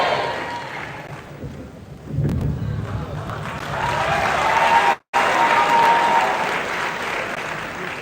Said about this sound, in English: Please give him a resounding round of applause.